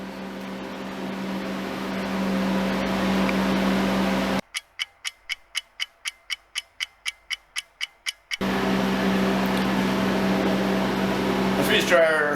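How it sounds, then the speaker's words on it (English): A freeze dryer drying parsley runs with a steady mechanical hum and motor drone. A stretch of rapid rhythmic ticking pulses cuts through midway before the hum resumes, heard close and continuous. "The freeze dryer has been running for almost 14 hours now."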